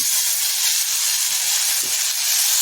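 Okra (lady finger) frying with softened onion in a pan, a loud, continuous bright hiss and sizzle that holds steady for the whole stretch, with no talking.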